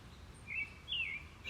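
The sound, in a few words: birds singing in woods by a trail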